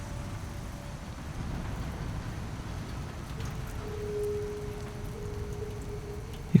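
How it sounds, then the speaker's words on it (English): Steady rain hiss fills the scene at moderate level in the video game Death Stranding 2, with a faint engine-like hum entering midway and a sharp tap at the very end. "Oh, it's raining."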